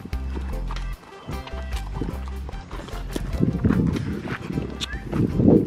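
Hooves clop and shuffle on the ground as horses move about nearby, with people talking over the scattered thuds.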